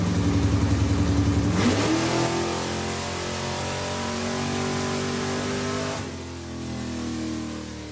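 An old Camaro dragster engine revs hard during a tuning pull. It is loud and close, with a rising rev and a shift near the two-second mark, then a sustained high-rpm roar that eases slightly toward the end.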